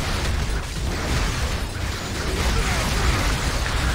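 A freeze grenade going off in Marvel Heroes 2015, a dense, loud, crackling burst of icy noise that fills the whole moment without letup, mixed with busy game effects.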